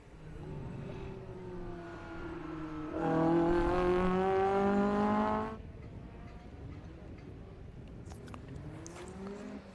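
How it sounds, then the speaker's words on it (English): A Ford Escort Mark II RS2000 rally car with a 2-litre Pinto engine runs at a historic sprint meet, its engine note climbing, swelling loudest for a few seconds as it passes close, then dropping back to a steady hum. "Running the iconic 2-litre Pinto engine."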